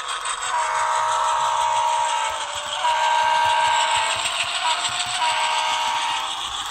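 A steady electronic model Dash 9 diesel locomotive engine drone with a bright horn-like tone rising and falling, recorded close, loud and continuous with no talking.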